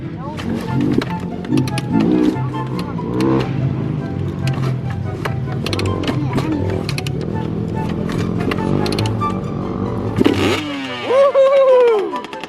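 A Kawasaki KX65 motocross bike kick-started and revved, rough engine roar rising and falling loudly up close, with an excited voice shouting over it as the revs climb near the end.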